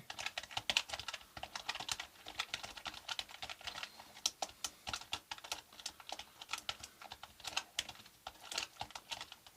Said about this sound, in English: I can type very quickly